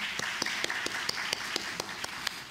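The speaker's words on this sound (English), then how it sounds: "give her a round of applause for her presentation" Audience at an academic presentation applauding quietly, with a soft bed of clapping and a few sharper individual claps standing out at a steady pace.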